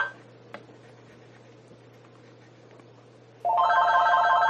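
A landline telephone starts ringing loudly near the end, its harmonic electronic ring sounding steadily over a quiet room hum after a stretch of near silence.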